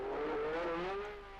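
A 1975 Formula 1 car drives out to the grid on wet tyres, its engine a droning whine that rises slightly in pitch and fades as it moves away.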